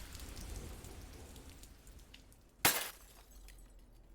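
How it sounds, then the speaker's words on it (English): Glass shatters into pieces in one sudden loud crash, a burst of bright breaking that rings briefly and fades over a steady bed of rain. "the sudden sound of glass shattering into a million pieces"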